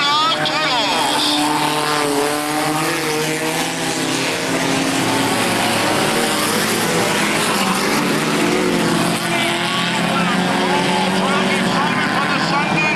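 A field of race cars, Fords among them, roaring off at the start of a race, loud sustained engine drone with rising and falling revs, heard under a commentator's voice over a public address.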